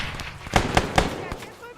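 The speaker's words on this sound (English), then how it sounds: "Take cover! Grenades!" Grenades burst in an ArmA 3 World War II battle: three quick, sharp explosions in a row, then a softer fourth, with shouting voices around them.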